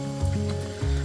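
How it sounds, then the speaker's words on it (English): Tomatoes frying in a pan while an omelette is being made, producing a steady close hiss and sizzle over a low hum throughout the brief moment. "add tomatoes in, throw these little bits in as well."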